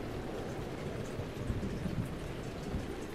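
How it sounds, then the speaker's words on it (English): A thunderstorm with rain in The Legend of Zelda: Breath of the Wild, a steady, dense hiss of rainfall with low rumbling underneath, continuous and fairly loud with no talk. "Storm would subside at any point."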